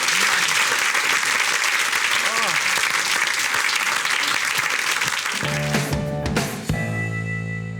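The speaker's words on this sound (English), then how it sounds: "Round of applause." A studio audience at a cooking show breaks into loud, sustained applause, a dense wash of many hands clapping together that carries for several seconds before music rises at the end.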